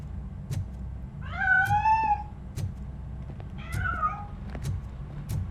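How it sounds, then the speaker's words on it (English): Inside a building in the Robocop Rogue City video game, a cat meows twice, each a drawn-out wavering cry, over a low game ambience hum with faint scattered clicks. "That cat must be hiding inside."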